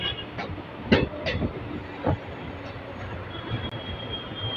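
The 13173 Sabroom–Kanchanjunga Express rumbles along steadily with low, continuous rolling noise, a few sharp clacks from the wheels, and a thin high squeal near the end.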